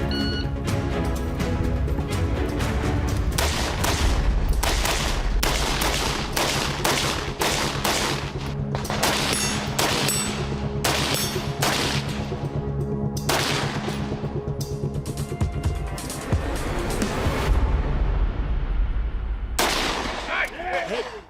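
Rifle fitted with a muzzle brake and rage adapter firing rapid strings of loud sharp gunshots, dense bursts with brief pauses, echoing outdoors amid other gunfire and some talk.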